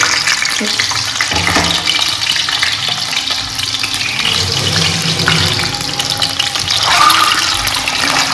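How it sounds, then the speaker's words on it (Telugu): Hot oil crackles and sizzles steadily in a pan as chicken with eggs fries, a continuous close spitting texture with stirring under it and no talk. "ఆయిల్ కాగిన తర్వాత చిట్పట్లు ఆడుతుందండి"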